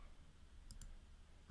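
A computer mouse gives a quick double click, faint and close, over a quiet room hum.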